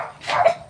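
A playful pet dog on a farm path yips once in a short, high whimpering bark, close and fairly loud, with no talking.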